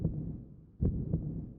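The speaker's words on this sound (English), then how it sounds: "With a heartbeat." Heartbeat sound effect from the AI Somnium Files video game, two deep, muffled thumps close together that swell out of a low, throbbing hum, heard alone and up close.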